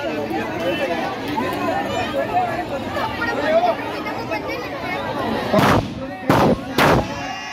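Firecrackers explode at an outdoor Lanka-burning performance, several loud sharp bangs near the end following a noisy crowd babble with people talking.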